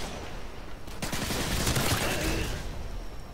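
An AA-12 automatic shotgun fires in Modern Warfare 2 on the Highrise map, a loud rapid burst of blasts that runs continuously through most of the moment.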